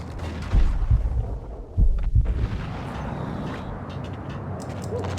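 Grenade explosions in the video game Max Payne, a few heavy low booms in quick succession near the start, then a lingering rumbling wash of debris and ambience.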